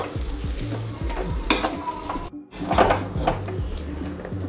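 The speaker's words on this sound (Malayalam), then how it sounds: "അതുവരെ നമ്മളിത് ഇളക്കി കൊടുക്കണം." Grated coconut frying in a pan while being stirred for a Malabar dish, with steady sizzle and repeated scraping strokes of the spoon, briefly cut out midway before resuming.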